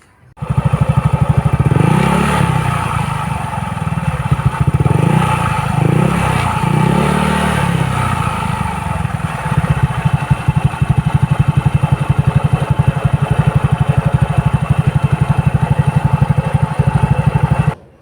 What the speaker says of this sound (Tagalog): papakinggan natin yung tunog ng pipe.